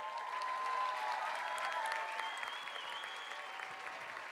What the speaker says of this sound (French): Linda et Paula, on peut les applaudir.